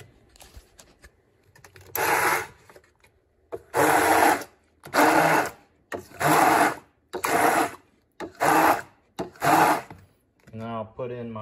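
An electric mixer blends a chickpea and tofu lemon pie filling containing corn starch and vanilla, whirring loudly in seven repeated bursts of a second or so, separated by short pauses and ending with a brief snatch of talk.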